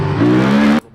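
A Honda Transalp motorcycle engine revved up close, one loud, rising drone that holds for under a second and then cuts off abruptly.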